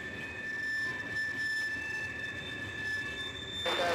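Freight train cars roll past trackside, including an empty bulkhead flatcar, a steady low rumble with a faint high wheel squeal and a brief louder burst of noise at the end, no talking.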